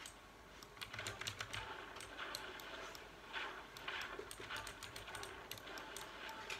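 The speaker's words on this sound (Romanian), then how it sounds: "Dacă se aude ceva pe fundal, e tastatura mea." Computer keyboard typing in the background of a Fortnite session, rapid irregular key clicks in quick bursts, fairly faint and close, with no talking.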